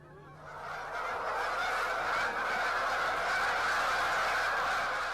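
Canada geese honking in a dense, continuous chorus during a New Hampshire goose hunt, many birds calling at once, loud and overlapping throughout, with no talk.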